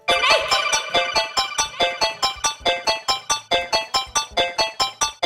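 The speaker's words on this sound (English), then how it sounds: "The next sound, we've got this kind of like plucky sound." A bright, plucky synth plays a quick repeating pattern of short, snappy notes, each decaying fast, steady and upfront with no voices.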